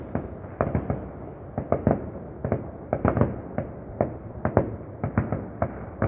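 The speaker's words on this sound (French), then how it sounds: "on voit pas trop bien le feu d'artifice" Distant fireworks pop and thud in irregular bursts, muffled and far off, repeating steadily throughout.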